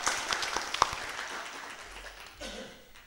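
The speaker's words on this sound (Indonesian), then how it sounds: "tepuk tangan untuk kita semua." Audience applause during a mayoral candidate debate event in Tasikmalaya, a short spell of scattered crowd clapping with a few sharper individual claps, moderately distant and tapering off.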